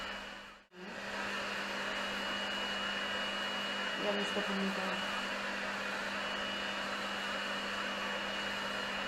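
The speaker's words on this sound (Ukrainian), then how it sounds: "пилосос робить своє." A vacuum dust extractor runs during cracked-heel treatment with a rotary cutter, making a steady, loud whooshing drone after a brief dip near the start, while a person speaks a short line over it.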